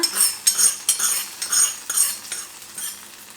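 Tempering tipped into a thickened Kerala ozhichu curry of ash gourd, drumstick and mango, heard as a string of bright metallic scrapes and clinks of a spoon against the pan with a light sizzle, close and without talk.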